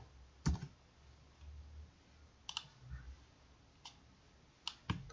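A few sharp, isolated keyboard clicks sound close up in a quiet room while someone enters text into a Google Forms questionnaire, with short, irregular gaps between the taps.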